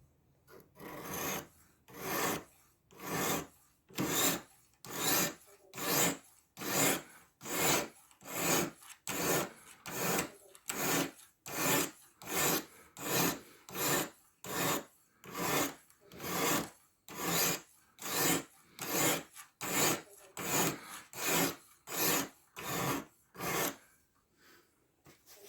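A knife blade is drawn over and over along a 240 grit Spyderco SAGE 5 Light ceramic sharpener, giving about thirty rhythmic raspy scraping strokes, evenly spaced and close up, with brief pauses between passes.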